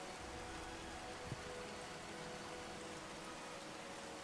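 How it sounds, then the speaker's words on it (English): Steady rain ambience hisses evenly throughout, a soft broadband wash with one faint thump, set as the backdrop of a Pathfinder 2E Kingmaker tabletop game session. "I'm used to the rain at this point in this place"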